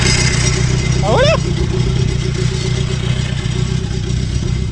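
A buggy's engine, restarted after freezing, idles steadily with a low rumbling drone that runs throughout, while a brief rising whine sweeps up near the one-second mark.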